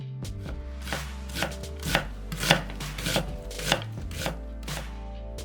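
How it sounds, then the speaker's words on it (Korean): Half an onion, scored first, is diced with a knife on a cutting board for broccoli soup: a run of crisp, close knife strikes in an uneven rhythm, about a dozen chops, with no talk. "양파 반 개는 칼집을 넣어서 작게 썰고"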